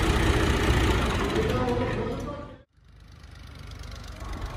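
A Fiat 480 tractor engine is revved hard at close range, a loud rough drone that suddenly cuts to a brief silence and then picks up again more quietly.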